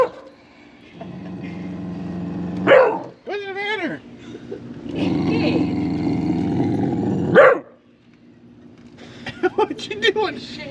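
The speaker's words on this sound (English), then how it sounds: "Got a barking. It's already barking." Small dog hiding in a vehicle on a road trip gives two sharp barks separated by longer whining yelps, then a few quick yips at the end, close and loud with a low engine hum underneath.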